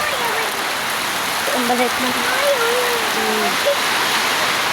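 Heavy rain pours in a steady, dense roar while someone talks over it.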